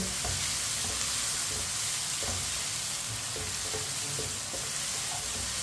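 Onions sizzling in a pan for a pyaz ki sabzi, a dense steady hiss of frying with a few soft scrapes of stirring, close and constant, no talking.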